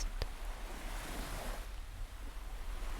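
Ocean surf rolls in as a steady wash of broadband noise with a light breeze, soft and continuous, no voices present.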